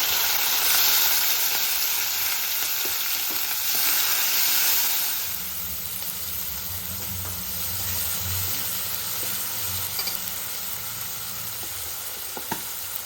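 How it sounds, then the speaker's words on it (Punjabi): Tomato, ginger, garlic, cumin and green chilli fry in hot oil for a tadka for a Rajasthani-style dry chana dal. A steady close sizzle and hiss runs throughout, with a lower frying bubble in the second half and occasional stirring clicks. No talking. "ਤੇਲ ਪਾ ਦੇਣਾ ਤੋਂ ਬਾਅਦ ਵਿੱਚ ਆਪਾਂ ਜੋ ਵੀ ਟਮਾਟਰ ਅਦਰਕ ਲਸਣ ਜੀਰਿਆ ਵਾ ਹਰੀ ਮਿਰਚ ਸਾਰਾ ਕੁਝ ਆਪਾਂ ਚੰਗੀ ਤਰ੍ਹਾਂ ਭੁੰਨਣਾ"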